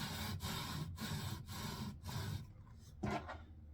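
Scope rings are lapped with steady back-and-forth strokes, a soft rhythmic rasping rub repeated about six times, close and quiet, with a brief pause near the end.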